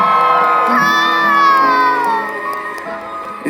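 A concert crowd cheers and whoops loudly with high shouts for a pianist, sustained for a few seconds before easing slightly.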